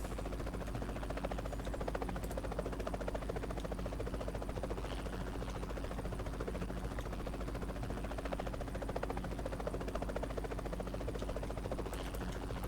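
A helicopter in the battle royale game PUBG Mobile drones steadily throughout, its rotor giving a continuous rapid thudding buzz at constant loudness, close and unbroken, with no talk.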